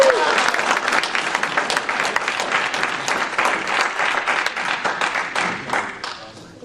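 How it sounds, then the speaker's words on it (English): A room of people applauds a speaker at a real estate talk in the Dayton, Ohio area, a moderately loud burst of clapping that stays steady, then thins out and fades at the end. "So let's give him a warm applause."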